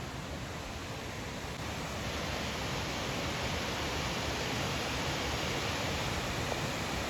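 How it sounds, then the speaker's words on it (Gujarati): Loud, steady rushing of check dam water falling over Jhumfali Waterfall near Danta, Banaskantha, fills the whole clip, a dense broadband roar without pause. "પાછળ ચેક ડેમનું પાણી કેવું સરસ મજાનું ધોધમાં જાય છે"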